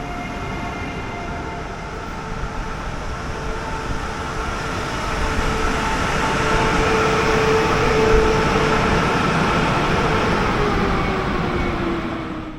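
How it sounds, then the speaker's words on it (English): An Alstom X40 double-decker multiple unit pulls into a station with a steady low rumble of wheels and a faint rising whine, the noise slowly growing louder and lingering near, with no talking. "as our train is now arriving"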